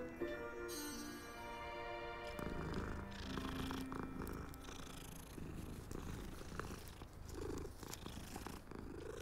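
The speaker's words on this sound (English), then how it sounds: "Black cat." A black cat in the video game Hogwarts Legacy purrs steadily and softly, a continuous low rumble set against quiet game ambience and faint ticking, with no talk.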